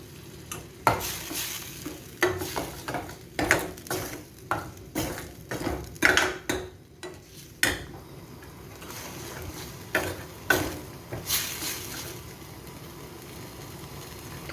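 Vegetable kofta curry masala with coriander leaves fries in a pan while being stirred briskly, a steady sizzle punctuated by repeated rhythmic scraping and knocking strokes of the spoon, close and fairly loud throughout.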